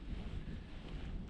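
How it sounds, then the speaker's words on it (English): Steady wind rushes and buffets against the microphone while paragliding in windy conditions, a constant low roar with no voices. "Flying in pretty windy conditions."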